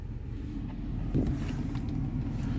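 Road traffic after school lets out, a steady low rumble of cars passing nearby with a brief swell in the middle, no voices.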